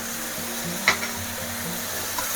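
Vegetables seasoned with salt, soy sauce and pepper stirred in a frying pan for egg noodles: a steady soft sizzle with one brief spatula clink against the pan.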